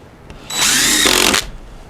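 A power drill drives a screw into a wide wooden board on a rustic barn door, one close whirring burst of under a second that rises and then cuts off.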